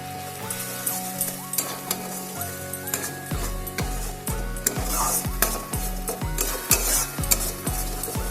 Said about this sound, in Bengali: মশলাটাকে ভালো করে নাড়াচাড়া করে নেব।